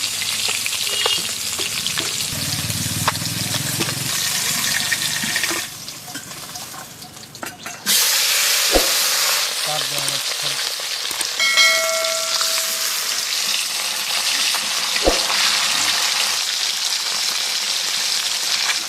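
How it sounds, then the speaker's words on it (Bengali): Rohu fish frying in oil, a steady loud sizzle that runs throughout with a brief drop midway, broken by a few sharp clinks of utensils and a faint ringing tone. "এই মাছগুলো আমার ভাজা হয়ে গেছে, আমি তুলে নেবো"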